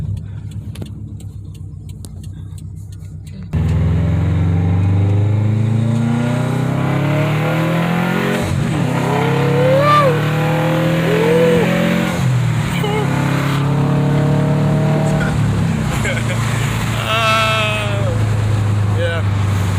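Tuned Audi A4 1.8T engine held on a two-step launch limiter, a loud steady buzzing drone that kicks in abruptly and holds with rising pitch sweeps, while people talk over it.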